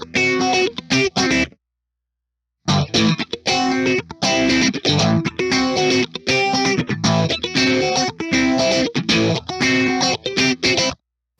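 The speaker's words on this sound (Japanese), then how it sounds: "フェイズ90が手元になかったので、中身的にほぼ同じフェイズ95を90モードにして比べてみます。" An electric guitar played through an MXR Phase 95 phaser set to Phase 90 mode, strummed in loud, distorted rhythmic chords with a sweeping phase swirl, pausing briefly after the opening bars before resuming.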